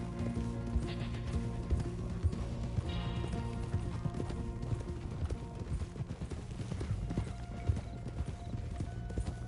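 Horse hooves clip-clop in a steady galloping rhythm in Red Dead Redemption 2, close and continuous under a layer of game ambience and music.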